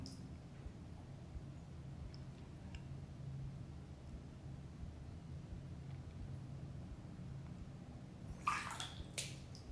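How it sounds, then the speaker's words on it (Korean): Quiet water sounds in a bathtub during a half-body bath, a soft steady wash with a brief splash and slosh near the end. "반신욕 중인데. 아, 물소리가 들렸구나."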